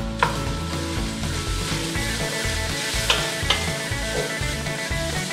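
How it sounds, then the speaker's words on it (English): Gumbo thickened with filé powder is stirred in a pan on the stove, giving a steady scraping and sizzling texture with a few sharper clinks of the spoon against the pan, close and continuous with no talk. "Give it a stir."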